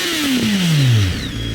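A BMW K1300R motorcycle engine revs up hard and then drops in a falling sweep, its loud, close exhaust note winding down before settling into a steady idle rumble.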